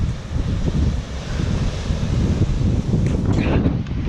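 Strong 40 mph wind buffets the microphone outdoors in Paradise, Michigan, a steady loud roar of low rumble and broadband gusting that swells and eases throughout.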